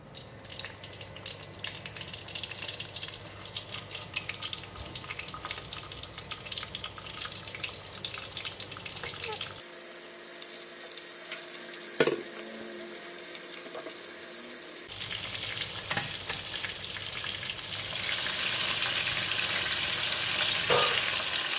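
Gulama fish fry in hot oil with garlic, a continuous close sizzle and crackle with occasional sharp pops, shifting in texture partway through and swelling louder toward the end, no voices.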